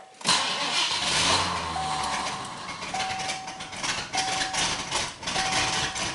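A 1981 Mercury Marquis engine cranks and fires up in a -26°C cold start, sputtering and catching before settling into a rough, uneven idle with a faint whining tone, close by with no talking.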